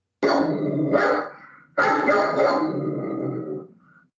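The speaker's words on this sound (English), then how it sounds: "That's not a good bark there." A dog gives two long, rough barks in a row, each a drawn-out growling bow-wow close to the mic, with a short gap between them and no talk over them.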